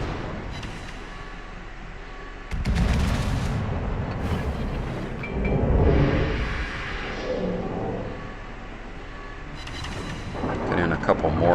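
Battleship main guns firing in World of Warships from the Japanese battleship Hyuga, heavy booming salvos with rumbling aftermath over game ambience, and a voice talking throughout.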